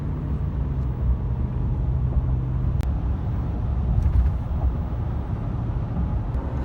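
A steady low road rumble fills a car driving around Greensburg on a partly cloudy day, with a couple of faint ticks and no talking.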